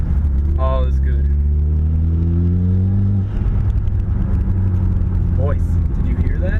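A Mitsubishi Lancer Evolution GSR fitted with an ETS intake drones loudly from inside the cabin, its engine note climbing steadily under acceleration, with a brief pause and then another rise, while a voice talks over it.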